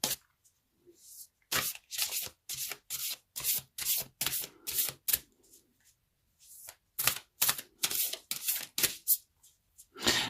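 Tarot cards handled close up: bursts of brisk shuffling, sliding and slapping cards down on a surface, each burst separated by short silent gaps, with no voice.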